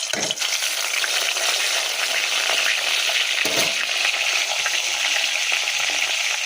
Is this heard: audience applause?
no